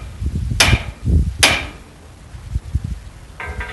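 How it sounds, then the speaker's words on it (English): Two light, sharp metallic taps of a hammer striking a punch set into the lock collar hole of a Javelin 16-4 auger, spaced under a second apart, close and crisp over faint background noise. "We take our punch, stick it into that hole there, and give it a few light taps with our hammer."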